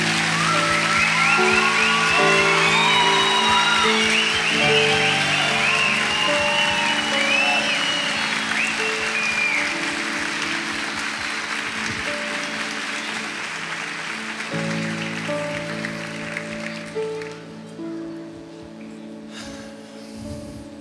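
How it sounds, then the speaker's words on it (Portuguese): A church congregation claps and cheers for the newly baptized at a baptism service, with dense, loud applause and a few whoops that slowly thin out and fade toward the end. A voice and sustained instrumental tones sound underneath. "Uma salva de palmas."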